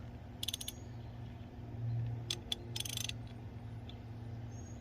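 Ratcheting clicks from a wrench turning bolts on the exhaust manifold of a Farmall 300 row-crop tractor, in a few short bursts over a steady low hum.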